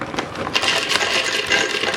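Almonds poured into a blender cup to make almond milk, a continuous rushing, rattling patter of many small nuts that holds steady for about two seconds, fairly loud and close, with no talking.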